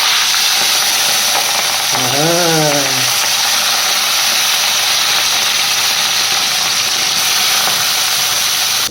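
Rohu fish frying in hot white oil, a loud, continuous broadband hiss and sizzle filling the whole stretch, with a brief rising-and-falling voice-like tone midway.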